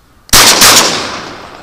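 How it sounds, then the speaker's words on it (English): A sharp, loud gunshot blast fired over a swamp to clear the way for ducks, a sudden crack with a quick second report, then a long echoing decay. "I'm just going to let some shots off right here"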